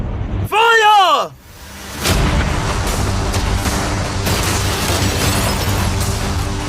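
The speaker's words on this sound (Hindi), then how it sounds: "भले ही एक कैनन ने उसकी यॉट को हिट किया" Cannon shots hitting a yacht during a challenge, with a falling whistling sweep followed by a heavy boom and a rumbling series of impacts and crashes, loud and near, with people talking over part of it.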